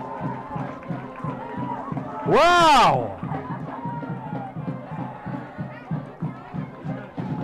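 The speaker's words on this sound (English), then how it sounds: "The crowd is into it." A high school football crowd roars and cheers after a kickoff return for a touchdown, a loud swelling burst over steady crowd noise and band drumming, with an excited voice exclaiming briefly.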